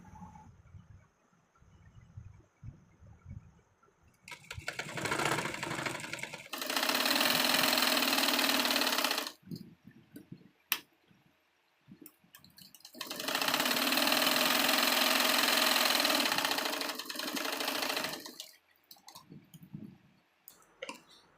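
Sewing machine stitching a blouse seam from end to end, two sustained bursts of rapid whirring separated by quiet pauses with small clicks and handling noises, fairly close and without talk.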